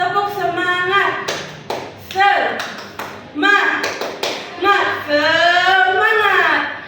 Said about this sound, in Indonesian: Ice breakingnya tepuk semangat ya teman-teman